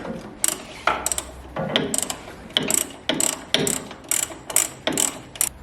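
Ratchet spinning an 18mm nut loose on a Ford Ranger sway bar link, a rapid clicking pawl in short repeated bursts, close and crisp, with no talk over it.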